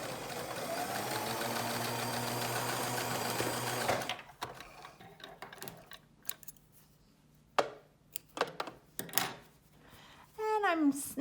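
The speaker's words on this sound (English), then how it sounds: "Any little sewing machine will do." A small sewing machine stitches pocket darts on a three-layer fabric mask, running as a steady mechanical whir for about four seconds, then stopping and giving way to scattered clicks, handling noises and short bursts.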